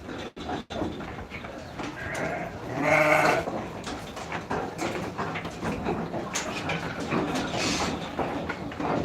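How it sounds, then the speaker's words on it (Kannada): Local sheep bleat over a busy, noisy background, with one clear drawn-out bleat standing out among rustling and distant clatter. "ಇದು ಲೋಕಲ್ ಕುರಿಗಳು"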